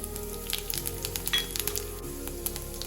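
Soft sizzling and crackling of seeds dropped into hot oil, with faint spatters and a light clink of a utensil, steady and close.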